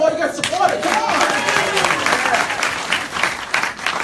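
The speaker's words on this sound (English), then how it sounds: "Guys, round of applause, you guys support it." A room of people clapping in steady applause during a live business presentation, with voices and calls mixed in over the dense patter of hands throughout.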